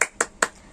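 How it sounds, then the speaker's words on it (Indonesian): Three sharp, evenly spaced claps at the start of a Scout-themed 'tepuk semangat' clapping chant, close and fairly loud, each burst ringing briefly before silence. "mari kita sama-sama tepuk semangat yuk"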